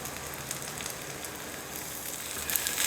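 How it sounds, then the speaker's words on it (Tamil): Oil poured onto a dosa cooking on a hot pan sizzles in a steady, dense crackle that holds through and grows a little louder near the end, with no talking. "இப்போ மேலே வந்து கொஞ்சம் எண்ணெய் ஊற்றிக்கலாம்."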